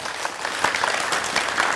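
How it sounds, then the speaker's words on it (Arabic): Audience applause in a TV studio from a crowd of Algerian Muslim Scouts, steady dense clapping throughout with no voices over it. "تصفيقة كبيرة كبيرة عليكم"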